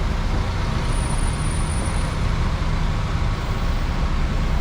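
Road traffic near the Split ferry port in Croatia: a dense, continuous roar of passing cars, buses and trucks, loud and steady with no talk.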